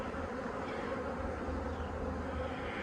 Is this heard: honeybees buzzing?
yes